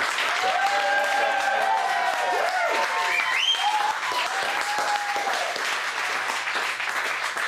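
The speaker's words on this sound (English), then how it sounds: "Applause to welcome our guest compere" A studio audience applauds steadily to welcome a guest compere onto a comedy stage, loud dense clapping throughout with a few whoops and a voice or two faintly mixed in.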